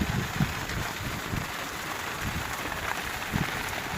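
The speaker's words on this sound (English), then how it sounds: "Hujan lebat kat bawah." Steady hiss of heavy rain falling at Morib beach campsite, with gusty wind buffeting the microphone and occasional low thumps, no voices.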